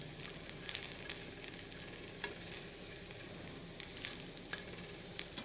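Bora fritters sizzle and crackle steadily in hot oil in a pan, a continuous frying hiss with occasional sharper pops and stirring sounds, heard close up with no voices.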